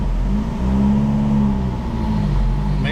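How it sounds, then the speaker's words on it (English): A turbocharged 1.4 Fiat 500 Abarth engine held in a third-gear pull on a dyno, a loud, close, sustained drone whose pitch climbs slowly and evenly, with no talking over it. "we're going to get right into doing another third gear pull"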